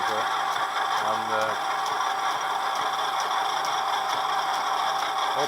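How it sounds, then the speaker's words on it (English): An old South Bend lathe runs at full speed, around 200 RPM, making a steady, noisy mechanical whine and rattle with a faint regular ticking throughout, while a voice talks quietly underneath. "the machine is really noisy at this speed, but nothing I can do"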